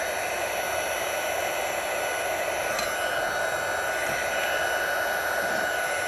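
A heat embossing tool blows hot air steadily and close by, a continuous loud hissing whoosh that holds level throughout while embossing a stamped craft piece.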